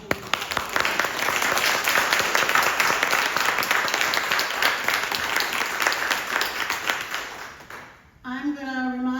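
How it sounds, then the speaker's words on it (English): A museum lecture audience applauds steadily for several seconds, dense clapping that fades out before a voice starts speaking at the end. "Let's give each other a round of applause."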